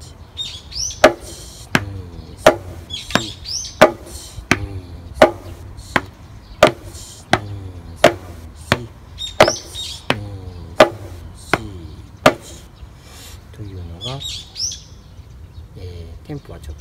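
Drum struck in half notes, one hit every two counts, making a steady series of sharp, evenly spaced hits with birds chirping in the background and a voice speaking between beats.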